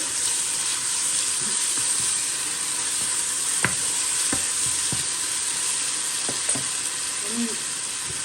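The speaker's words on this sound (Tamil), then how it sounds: "நான் உள்ளியும் இஞ்சியும் அரைச்சி வச்சுக்கிறேன் அதை போடுவோம்" Ground garlic and ginger paste frying in hot oil with browned onions for spicy chicken biryani, a steady close sizzle with occasional light scrapes of stirring and no talk.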